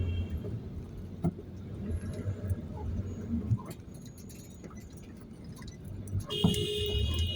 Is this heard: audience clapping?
no